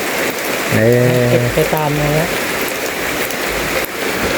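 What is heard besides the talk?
rain falling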